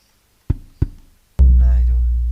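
Banjari bass drum samples from the eHadrah hadrah app: two short deep thumps followed by a longer booming hit with a sustained low ring, close and loud, with no talk.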